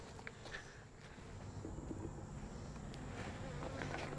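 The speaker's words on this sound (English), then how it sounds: "there's bees all throughout, which is a good thing" Honey bees drone in a steady, dense buzz throughout an open hive inspection, close and continuous with faint crawling and handling sounds mixed in and no voices.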